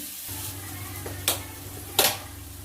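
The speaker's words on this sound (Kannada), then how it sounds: "ಇದು ಫ್ರೈ ಆಗಲಿ." Masala gravy base frying in a pan, a low steady sizzle broken by two sharp, bright bursts of spattering or stirring near the middle and end.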